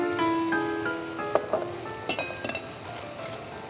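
Chili powder and tomato frying in oil in a pan for Bangladeshi beef bhuna, a steady close sizzle with a few metallic clinks and scrapes of a stirring spoon against the pot, no talking.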